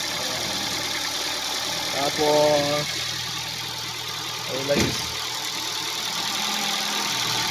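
A Ford EcoSport engine idles steadily with a constant low hum during an inspection of a used car, while someone talks over it throughout.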